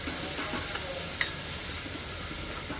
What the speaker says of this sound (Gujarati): તો હવે આની અંદર છે ને આપણે થોડું સોયા સોસ નાખી લઈશું.